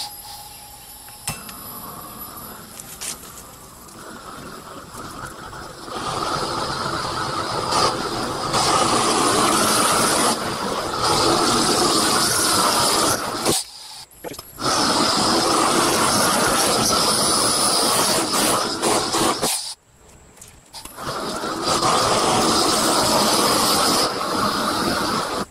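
Harbor Freight electric ignition blowtorch burning wooden boards for a truck flatbed, a loud broadband roaring hiss in long bursts, cut off by brief pauses between passes.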